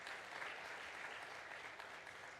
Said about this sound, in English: A big round of applause again for President Adesina